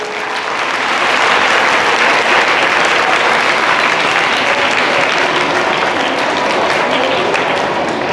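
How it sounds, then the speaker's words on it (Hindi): A large crowd of students at a coaching centre claps loudly in sustained, dense applause for their mothers, building quickly and holding steady to the end with no talk. "एक बार मम्मी के लिए जोरदार ताली बजाओ सारे"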